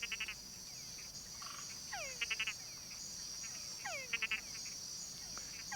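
Mud-puddle frogs call in a chorus on Barro Colorado at night, with repeated short whining croaks and pulsed chuck notes at close range over a steady high insect drone and background hiss.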